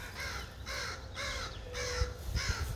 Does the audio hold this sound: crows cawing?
yes